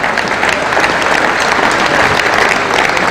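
Loud, sustained applause from a large audience in a hall saluting a composer on stage, a dense continuous wash of clapping with no gaps.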